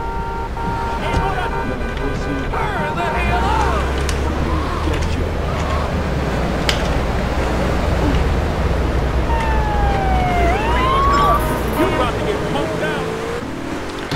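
In GTA 3 Definitive Edition, a police car siren wails with a rising and falling tone over steady engine and traffic noise, while someone talks throughout.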